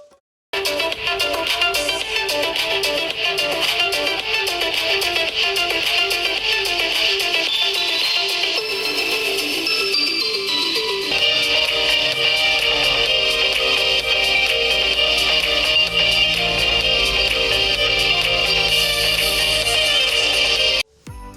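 Music plays loud and bright through the speaker of an Infinix Hot 9 Play phone with DTS audio enabled, continuous for about twenty seconds with a change partway through and no talking.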